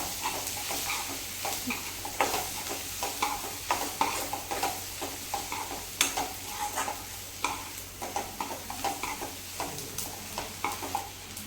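Spices and chili powder are sautéed in a pan for a Marathi village dish, with a steady sizzle broken by repeated scraping stir strokes at an even rhythm, close and fairly quiet with no talking.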